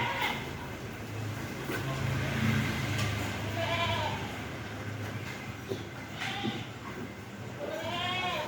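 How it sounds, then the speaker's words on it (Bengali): Goats bleat on a small cattle farm, with several wavering cries scattered through steady low farmyard background noise, some nearby and some farther off. "অনেক ছাগল"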